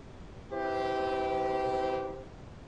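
A train horn sounds in the OpenTTD transport game, one sustained chord-like blast of about a second and a half over low rumbling, clear and fairly loud, with no talking.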